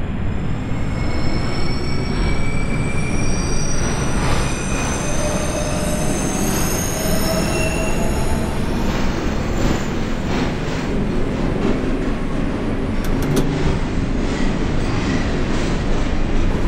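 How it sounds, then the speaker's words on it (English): A simulated New York City subway 2 express train in the OpenBVE game runs steadily toward the Bronx, with a continuous loud rumble of wheels and rails, intermittent squeals, and faint clickety-clack throughout. "This is a Bronx-bound 2 express train."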